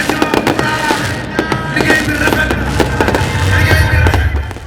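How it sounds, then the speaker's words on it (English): Fireworks burst in repeated sharp booms and crackles over a stadium crowd at a Senegalese Laamb wrestling event, with dense overlapping bangs filling the whole stretch. "Fireworks boom in the distance."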